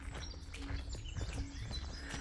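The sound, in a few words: small birds chirping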